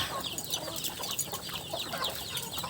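Chickens cluck softly around a backyard coop at feeding time, with scattered overlapping calls and rustling close by over steady outdoor background.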